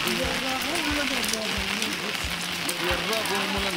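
Steady rain falls over a village, a dense even hiss of drops on surfaces running throughout, with a person talking over it and occasional low thumps.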